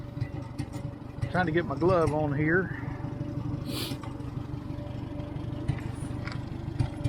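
An IH McCormick Farmall 350 tractor engine runs steadily at close range, a low rumbling idle beneath someone talking briefly, with some light clatter and handling sounds over it.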